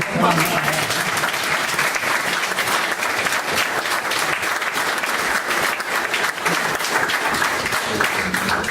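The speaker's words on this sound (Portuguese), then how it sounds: "Uma salva de palmas." An audience at a 500th anniversary celebration in Soutelo applauds steadily and loudly for a priest, a dense continuous wash of clapping lasting the whole stretch.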